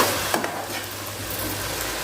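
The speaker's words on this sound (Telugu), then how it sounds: "గోల్డ్ కలర్ వచ్చేదాకా, ఈ పచ్చివాసన పోయేదాకా వేయించుకోవాలి." Chicken soup ingredients frying and being stirred in a pan with oil, a steady close sizzle with a faint scrape of the spoon early on, no talking.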